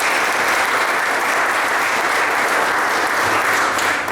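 A dense, loud, continuous wash of audience applause at an official presentation event, sustained evenly from start to finish without voices.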